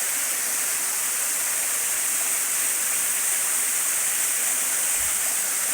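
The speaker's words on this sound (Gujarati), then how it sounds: "આમ ઉપરથી ધોધ પડે ત્યાંથી નાહવાનું છે." A waterfall roars in a constant, dense rush of white noise, loud and close, with no other sounds standing out.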